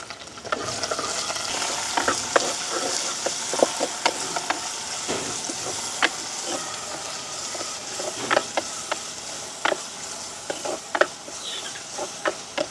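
Small onions and garlic sauté in a pan, giving a steady soft sizzle broken by frequent sharp clicks and scrapes of stirring, close and moderately quiet, with no talk.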